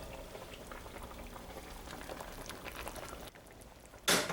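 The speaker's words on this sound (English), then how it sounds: "now we cover the pot and simmer it on low heat for a long time." Brunswick stew bubbles in a covered cast iron pot on low heat, a steady close-up burble of simmering liquid with a brief louder rattle at the end.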